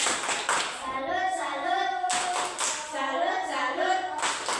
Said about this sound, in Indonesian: Tepuk salut dulu untuk Nane.